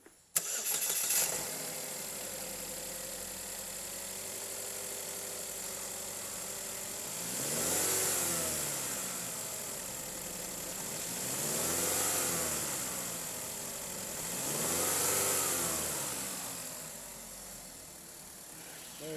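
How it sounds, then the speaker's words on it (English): A 2012 Buick Regal Hybrid starts up and then runs steadily at idle, with three slow swells of revving spaced several seconds apart, close and clear without talk. "2012 Buick Regal Hybrid, mileage 105, 755, engine run video"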